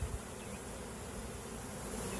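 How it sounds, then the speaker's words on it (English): A dense honeybee swarm hums steadily inside a two-frame hive box, a continuous close, even buzz with no voices. "There's way too many bees in here for a 2-frame."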